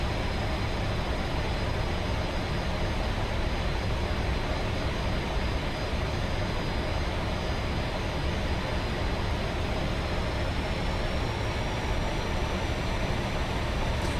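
Fokker F28 jet engines in Microsoft Flight Simulator, a constant loud roaring drone with a thin high whine that slowly rises in pitch, steady throughout with no talking.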